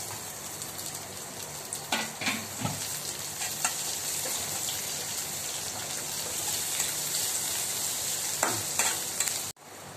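Onions sautéing in a pan with garlic and ginger for mutton dalcha, a steady close crackling sizzle with a few louder stirring scrapes, no talk.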